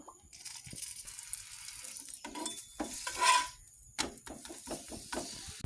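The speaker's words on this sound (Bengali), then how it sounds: "এই যে তেল ছড়িয়ে ভেজে নেব" Rolled dough pieces fried in oil spread across a pan, with a bright sizzle and stirring clatter of a pan and utensils, rising to a louder burst midway and then continuing in short scraping bursts, with no talking.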